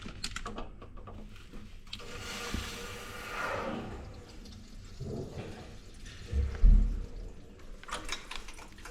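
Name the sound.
water pouring from a leaking radiator pipe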